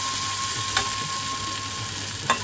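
Spicy duck egg masala stir-fried in a wok, a steady close sizzle and crackle of frying spices with a couple of brief scraping stirs, no voices.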